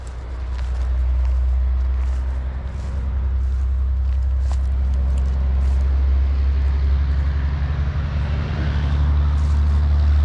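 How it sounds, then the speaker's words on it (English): A very loud truck drives past on a road beside a rural cemetery in Sheridan, Oregon, a heavy low engine rumble swelling and staying strong throughout with no one talking. "Very loud truck coming by."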